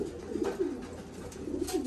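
Production breeding pigeons in a loft coo in soft, low repeated calls, several overlapping close by against a faint background hum, with no talk.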